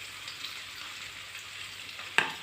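Whole cumin seeds sizzle steadily in hot oil in a pan for a fish-head ghonto, with a soft continuous crackle and one brief sharper pop near the end.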